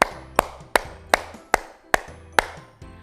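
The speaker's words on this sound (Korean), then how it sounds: "여덟 자 다 말하고 박수 치는 겁니다" Seven sharp hand claps spaced evenly at a steady beat, loud and close, during a dementia-prevention exercise class, with faint background sound between each clap.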